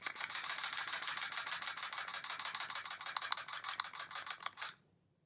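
A pistol shaken in the hand, its separate slide rattling against the frame in a fast, steady clatter of small metallic clicks, close and continuous for several seconds before stopping abruptly.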